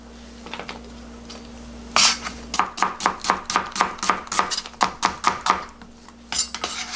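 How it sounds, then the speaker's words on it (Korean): A knife finely julienning chives on a cutting board, a rapid run of about a dozen crisp, evenly spaced chops close by, preceded by a louder clatter, with no talk. "요거를 좀 잘게 썰어주겠습니다. 자, 이렇게 채를 썰어줍니다."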